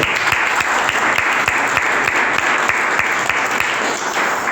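A church congregation applauds during a worship service, a loud, dense wash of clapping from many hands that holds steady throughout with no pause.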